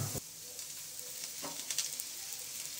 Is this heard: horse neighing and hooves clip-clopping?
no